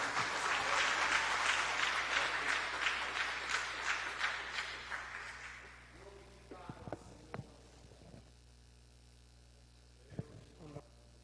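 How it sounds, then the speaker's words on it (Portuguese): Congregation applauding during an evangelical church service in Botucatu, a dense sustained clapping for about six seconds that then fades into low hum with a few scattered claps. "Aplauda o Senhor Jesus, irmãos."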